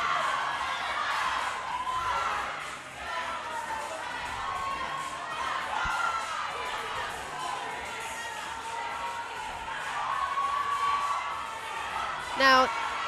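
Large crowd at a fitness athlete games event cheering, whooping and shouting in a steady loud roar, with a sharp burst of louder yells near the end.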